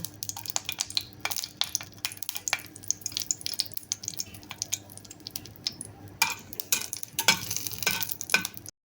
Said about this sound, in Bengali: তো প্রথমে আমি শুকনো মরিচগুলি ভেজে নেব